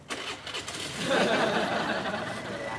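A motorbike engine cranks and catches, then settles into a steady mid-pitched running sound, close by and fairly loud, with a brief voice near the start.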